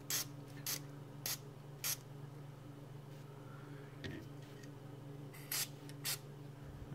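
Short hissing bursts of contact cleaner sprayed into a wafer-type selector switch on an STA-2300 receiver, about six quick spurts in irregular pairs over a faint steady hum, with no talking.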